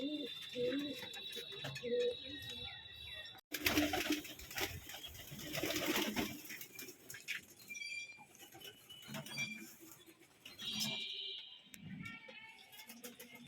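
Pigeons in a loft give soft cooing calls and rustle about under a bright clatter, with faint voices and shuffling around them.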